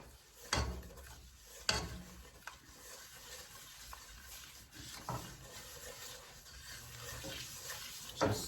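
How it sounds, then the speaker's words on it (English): Sugar being stirred into fully melted butter in a pan for a caramel rum cake, with soft scraping and a gentle sizzle, plus a few sharper clinks of the utensil against the pan. "I am going to add that sugar now that the butter is completely melted. And I'm just going to stir this in."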